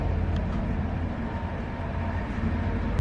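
Inside the toilet of a passenger train crossing toward the Ukrainian border, a steady low rumble and broad rolling noise fill the space, constant and fairly loud with no voices.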